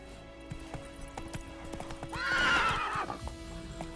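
A horse in the video game The Witcher 3: Wild Hunt gallops with steady rhythmic hoofbeats, and a loud whinny rises over the hooves partway through.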